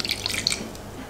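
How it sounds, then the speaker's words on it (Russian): Milk is poured into a bowl of mashed soft butter, giving a brief, light splashing trickle that quickly fades, close and fairly quiet. "Добавляю молоко."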